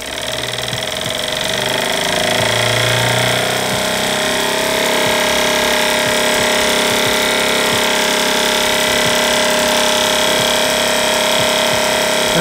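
Aircraft magneto tester motor running up to about 2000 RPM, a steady loud mechanical drone with fine ticking sparks throughout, holding constant after a brief rise in the first second.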